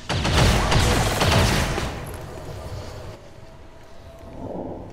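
Gunfire from robot units in the video game XCOM 2 comes as a dense, loud burst of rapid shots for about two seconds, then fades into quieter rumbling and ambience.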